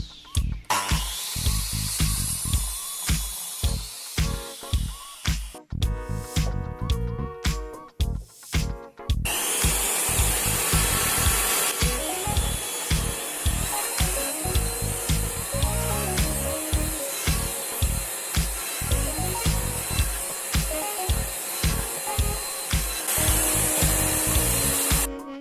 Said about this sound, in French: Je coupe des chutes de bois autoclave qui vont me permettre de faire l'assemblage.